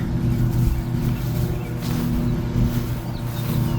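A steady low motor drone from a motorboat on a river near Warsaw, Illinois, carries across open water, continuous and moderately distant, with light wind noise and no speech.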